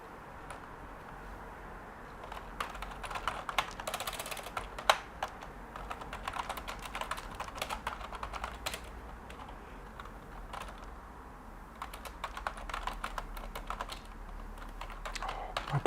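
Someone types on a computer keyboard in a steady, continuous patter of quick key clicks, close and fairly quiet, with no talk.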